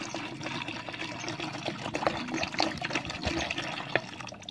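About a liter of water pours into a bucket, a steady splashing, gurgling stream close by for a few seconds while preparing NPK fertilizer.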